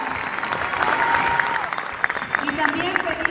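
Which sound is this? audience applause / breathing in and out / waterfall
audience applause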